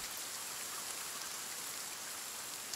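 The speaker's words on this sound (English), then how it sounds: "Oh gosh, there's some loud rain mechanics." Heavy rain and hail in the survival video game The Forest make a dense, steady hiss of drumming drops with no breaks, fairly loud throughout.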